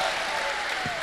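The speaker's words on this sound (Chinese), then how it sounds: "谢谢大伙的掌声鼓励" Audience applause at a crosstalk comedy show, a dense, steady wash of clapping held at constant loudness through the brief moment with no voices over it.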